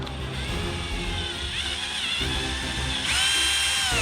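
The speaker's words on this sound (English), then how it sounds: "And then I'll drill in the front of the glue." A power drill with a steel bit whines steadily up close, its pitch rising as it bites into a glued floor joint, with a grinding mechanical buzz throughout.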